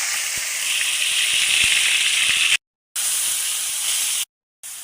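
Marinated chicken with garlic and ginger sizzles loudly in hot oil, a dense, continuous hiss that cuts out twice to brief silence before resuming.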